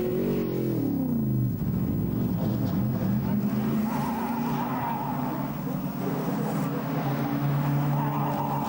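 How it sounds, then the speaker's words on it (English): Viper race car running at the Nürburgring 24 Hours in 2004, a continuous loud engine drone with shifting pitch, with commentary talk over it. "The lead Viper is still running without any problems at this stage of the race."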